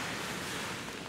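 Broad, steady wash of ocean surf breaking on a beach in Portugal, with wind buffeting the microphone throughout and no distinct individual wave crashes.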